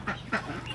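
An Alabio duck quacks at close range, two short nasal quacks in quick succession.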